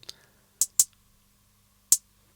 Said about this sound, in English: Right now what you are hearing is the hi-hat sample here.